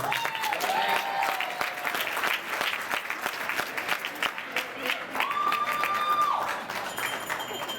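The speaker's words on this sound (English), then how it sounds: "Please give Graham a big round of applause" Wedding guests give the groom's father a big round of applause, steady crowd clapping throughout with voices calling out over it.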